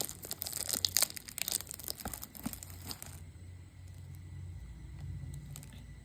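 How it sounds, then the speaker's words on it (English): Crinkling and tearing of a box and plastic wrap as a Man Company Black 100 ml perfume package is opened, several close crunchy rips in the first three seconds, then a quieter rustle over low background hum. "So without further ado, let's open this package."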